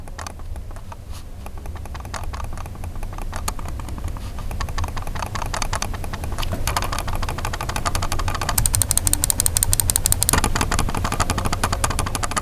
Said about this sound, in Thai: อันนี้คือเมาส์ปกตินะครับ กับเมาส์ NM94M นะครับผมเสียงมันจะ ไซเลนแค่ไหนนะฟังกันนะ